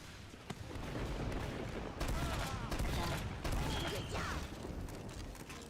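Sustained gunfire in the Team Fortress 2 video game: rapid, repeated shots rattle continuously over a noisy battle backdrop, with a few sharper bangs standing out.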